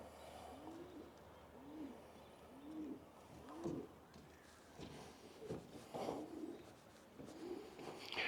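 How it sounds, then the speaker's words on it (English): Pigeons coo repeatedly in soft, low, rhythmic calls, several in a row, nearby against faint outdoor background noise on the Geelong waterfront. "those pigeons are starting to annoy me a bit"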